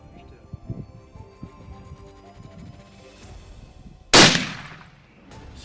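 A single loud, sharp rifle shot rings out close by at a mule deer in misty hunting country, cracking suddenly after low murmured voices and quiet outdoor rustling, then trailing off into a brief echo.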